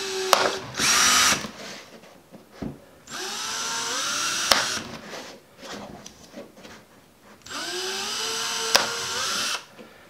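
Power drill boring holes into a plastic sour cream container, heard as two sustained high whirring bursts with short clicks and handling noises between them, close and fairly loud.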